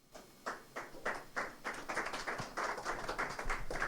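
An audience claps after a talk at a café-debate, a short burst of hand claps that begins sparse and quickly thickens into steady applause, fairly close and without voices.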